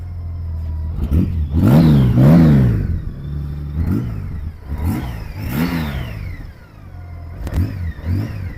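A 2016 Honda Goldwing GL1800 motorcycle on its original exhaust revved in several short bursts, rising and falling in pitch, with a steady idle between blips, close and loud.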